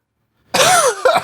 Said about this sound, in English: Pardon the coughing.